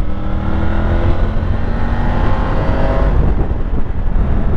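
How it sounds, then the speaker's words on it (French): A Street RS motorcycle accelerating on the road, its engine a loud, close, continuous drone that builds steadily for several seconds, with no voices. "Allez, elle va accélérer un petit peu."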